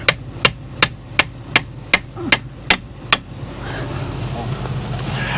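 A hammer striking a collapsed bearing in bad weather, about nine loud, evenly spaced metallic blows in a steady rhythm, then falling away to wind noise and low rumble.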